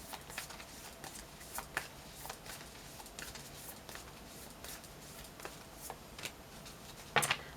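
Tarot cards are shuffled in a run of quick, crisp riffles and flicks at close range, ending in a louder burst of card noise, with no voices.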